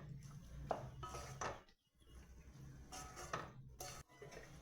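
A lid settles over a pan of cooking dheki shaak chorchori (fiddlehead fern greens), giving a few quiet metallic clinks and knocks in a hushed kitchen.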